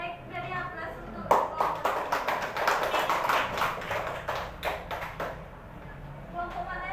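Scattered hand claps from a small group of students in a classroom, a loose burst of applause lasting several seconds after a short spoken line, with faint voices beneath.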